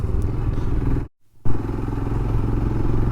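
A Royal Enfield Himalayan BS6 motorcycle is ridden along a winding mountain road near Gangtok, its engine thrumming steadily and loudly apart from a short moment of near silence.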